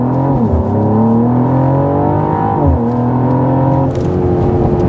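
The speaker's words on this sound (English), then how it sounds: "Let's try a launch control here again." A 2024 Mercedes-AMG GLE 53 engine pulls hard under launch control, a loud, steady droning roar climbing through the gears with two distinct shift dips, heard from inside the cabin with no talking.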